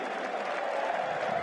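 Travelling English supporters cheer and applaud at a New Zealand versus England cricket match after a big shot. The crowd noise is steady and continuous from a distance throughout, with no single loud burst.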